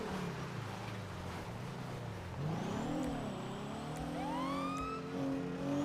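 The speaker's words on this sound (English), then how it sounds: "Look at this borrowed LSPD car." A borrowed LSPD police car in GTA 5 drives along with a steady engine drone, revving and rising in pitch, while tonal sweeps slide up and down above it.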